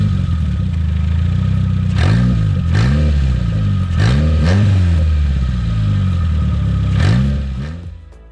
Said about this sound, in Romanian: puteți porni motorul să vedeți cum sună. Sună de super, super mișto, puteți să-l și turați puțin